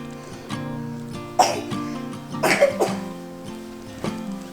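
A few short coughs burst out over a steady musical background, with a louder cluster in the middle and one more near the end.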